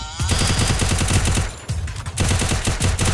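Free Fire game gunfire: rapid automatic bursts of thudding shots, loud and close, with a short pause in the middle before the firing resumes.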